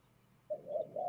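Pigeons coo nearby, a low, soft call that starts about halfway through and swells into a steadier, louder coo toward the end over a quiet background.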